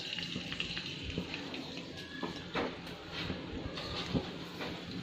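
Oil heating in a kadai pan gives a steady low sizzle and crackle, quiet and continuous, with a few faint clinks of the spoon along the way.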